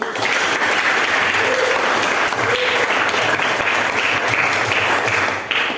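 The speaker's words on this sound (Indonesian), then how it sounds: "Tepuk tangan dulu." Students clap together in a classroom after group presentations, a dense, even round of applause that holds steady and loud throughout before briefly dipping near the end.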